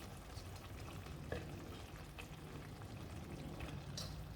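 Chili flakes stirred into chicken sauce in a hot pan make a quiet, continuous crackling sizzle with soft scraping stir strokes throughout, no talking.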